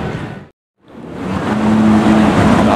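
A fully blacked-out Nissan GT-R passes with a loud, close engine roar that cuts out briefly, then swells back into a sustained rising drone with a faint tonal whine underneath.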